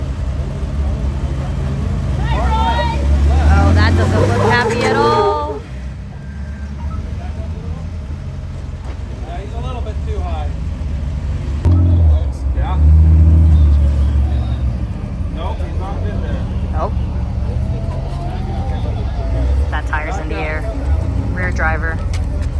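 An off-road vehicle's engine at an off-road games event gives a steady low rumble while it is throttled, running under almost constant talking nearby.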